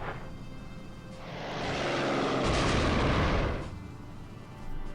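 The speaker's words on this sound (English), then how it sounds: "Bombers are attacking Antwerp." Bombers attack Antwerp in the Strategic Command 1939 wargame, a swelling roar of aircraft engines and rumbling blasts that builds over a couple of seconds, holds loud, then fades, with no talking.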